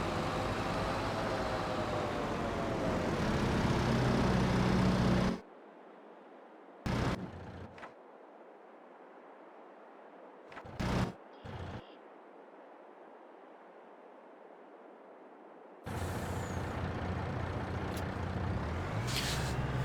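A truck is driven and parked, its engine rumbling steadily before cutting away, followed by several short sharp hisses of air brakes released in bursts, then the engine noise returns loud near the end.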